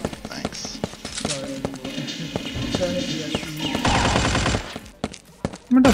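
Rapid video game gunfire aimed at the player, with bursts of shots rattling close and loud, partly overlapping a voice speaking, and a harsh sustained blast near the end.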